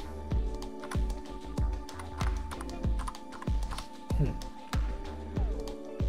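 Rapid keyboard typing while entering text into Photoshop, a steady run of close, crisp key taps across the whole stretch with no talking.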